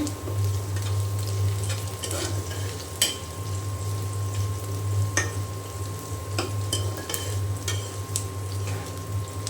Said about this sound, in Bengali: এখানে একটি আলু কেটে নিয়েছি বড় সাইজের, আর পেঁয়াজ আর কাঁচামরিচ দিয়ে দিয়েছি তেলে